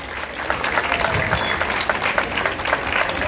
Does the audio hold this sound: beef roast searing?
no